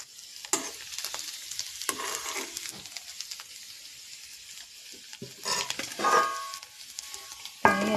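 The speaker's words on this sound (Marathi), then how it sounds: "परत हलवायचं आणि झाकण परत ठेवायचं." A vegetable bhaji is stirred in a pan over medium heat, a soft steady sizzle running under intermittent scraping strokes of the spoon, fairly quiet and close, with a sharper clank at the end.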